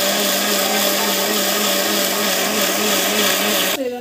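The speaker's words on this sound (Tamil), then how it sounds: "சட்னி வந்து மிக்சியில் போட்டு அரைச்சிக்கலாம் நல்லா." A mixer grinder grinding mint chutney whirs loudly and steadily at close range, a constant high-pitched motor whine that cuts off abruptly near the end.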